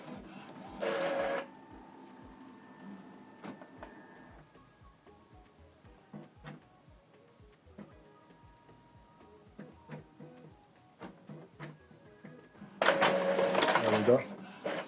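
An Epson ET-2862 inkjet printer runs a copy job with steady rhythmic mechanical ticking and whirring up close, and louder bursts of motor noise at the start and end.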